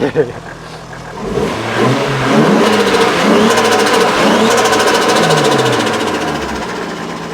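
A Toyota Mark II Tourer V (JZX100) with a rebuilt engine and aftermarket turbo revs nearby and holds at a high whirring pitch, rising and falling with a swirling, whooshing turbo tone before easing off.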